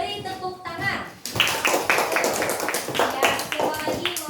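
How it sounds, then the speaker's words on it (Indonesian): A classroom of children bursts into applause after a short spoken exchange, many small hands clapping in a dense, uneven patter that fills the room and continues steadily. "Beri tepuk tangan."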